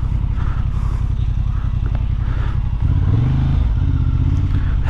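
A Honda Hornet 750 naked motorcycle idles with a steady, close engine pulse, then the revs rise and waver briefly before settling.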